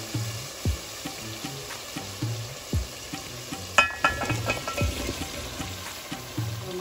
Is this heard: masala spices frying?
yes